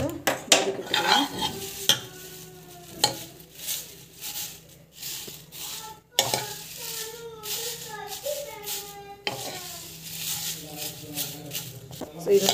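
Turmeric leaves being sautéed lightly in a pan for a homemade weight-loss powder, with repeated scraping and stirring strokes and a soft sizzle, close up, while a person talks throughout.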